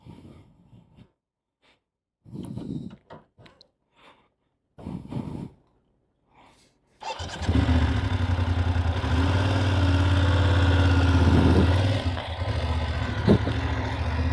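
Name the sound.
motorcycle pulling away for slow speed riding exercise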